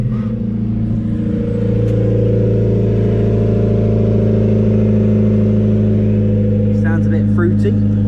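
A loud, rough Honda Civic EK3 engine with no exhaust box idling and rumbling steadily up close, with a deep droning tone and a brief rise in revs, voices faintly over it.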